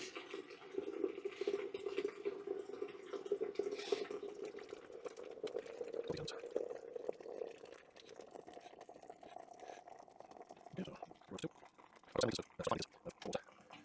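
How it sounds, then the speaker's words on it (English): Water boiling in a kettle for a first homebrew beer, a steady bubbling rush that fades toward the end, followed by a few sharp knocks and clatters close by. "That's boiling, I can see it coming out of the top."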